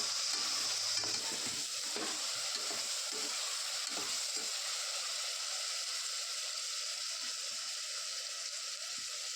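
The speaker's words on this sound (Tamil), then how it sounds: "அது ஒரு தொக்கு பதத்துக்கு வர்ற வரைக்கும் நான் வந்து அப்படியே வதக்கிக்கிறேன் எண்ணெயிலேயே" Tomatoes with turmeric sizzle and fry in oil in a pan while being stirred, producing a steady close crackling hiss with occasional scraping stirs and no talking.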